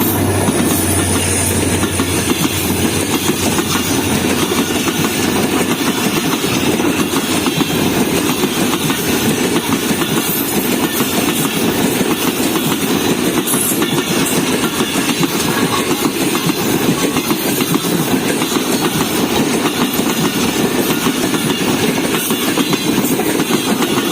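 The 146 Down Sukkur Express passes close by at Dabheji behind an HM130 locomotive, number 8225, in extreme conditions. A loud, continuous roar of engine and wheels runs for over twenty seconds, with steady clickety-clack over the rail joints.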